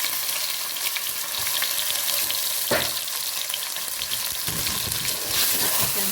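Chicken pieces browning in hot oil for a chicken and potato korma give a steady close crackling sizzle, with a few louder spits and stirring scrapes and no voices.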